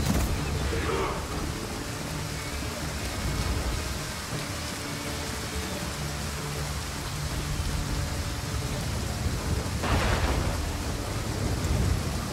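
Rain and rolling thunder from the video game Total War: Pharaoh form a steady loud wash throughout, with a brighter crack or downpour burst near the end.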